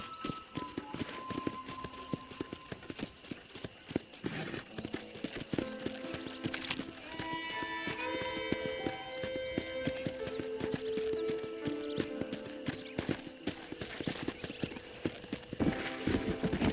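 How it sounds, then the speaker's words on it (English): Rhythmic clip-clop of horse hooves in Red Dead Redemption runs steadily throughout, over layered game music with a few brief tonal melodies. "let's see if you can still ride a horse"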